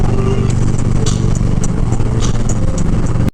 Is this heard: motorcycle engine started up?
yes